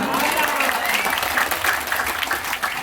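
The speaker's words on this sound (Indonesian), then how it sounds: "Tepuk tangan." Audience applause fills a mosque during a Maulid religious gathering, a steady loud wash of clapping from a crowd, with a voice briefly heard over it.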